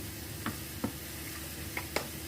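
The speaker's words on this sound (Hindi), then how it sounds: "अच्छा, इसमें हम सोया सॉस डाल लेंगे।" Soy sauce goes into a sizzling vegetable kebab mixture in a pan, a soft steady hiss of frying with a few light clicks of stirring, quiet and without talk.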